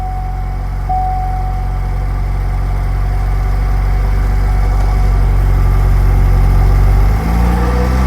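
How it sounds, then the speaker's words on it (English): A Saturn Sky engine with an intermittent overheating fault idles steadily nearby, a constant low rumble with a slight hum and no talking. "the engine is running."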